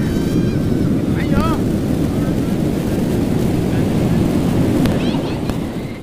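Wind and rolling ocean surf at Puri beach at sunrise give a loud, constant roar with microphone buffeting, while people's voices and shouts rise faintly over the waves.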